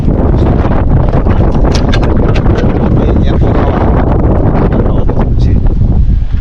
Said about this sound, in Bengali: হেভি হাওয়া দিয়েছে এখানে, ভালো লাগছে